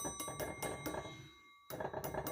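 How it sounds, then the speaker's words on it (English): Broken Clase Azul tequila bottle, repurposed into a resin picture, ringing like a bell: a sustained clear tone under a string of quick rhythmic tapping strikes that pause briefly and then resume, with no talking. "It's supposed to make a sound like a bell."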